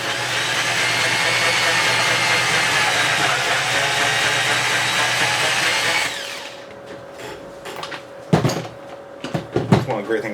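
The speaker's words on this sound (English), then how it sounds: "what I'm going to do is break out my unibit again" Unibit step drill bit widening a hole in plastic on an Atari 2600 Jr console, heard as a steady, loud, close grinding whir for about six seconds, then quieter handling clatter and a few sharp knocks.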